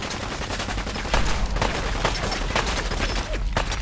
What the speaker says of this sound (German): die decken mich ja immer ganz gut ein mit ihren Maschinenpistolen